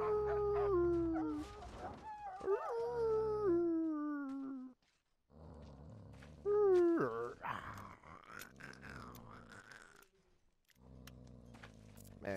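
A dog howls in the Mad Max video game while sniffing out a minefield, long wavering howls and growling groans in several bursts separated by short silences, close and clear.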